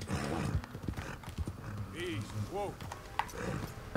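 Horse hooves clip-clop steadily on the ground in Red Dead Redemption 2, with the horse snorting and giving a brief whinny partway through, while someone talks over the sound.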